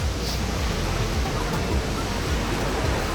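Athirapally waterfall crashes down in three layers, a loud, dense, unbroken roar of falling water heard up close.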